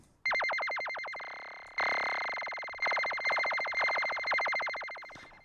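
A synthesized beeping tone pulses rapidly in a fast warbling trill, restarting in several bursts, clear and alone.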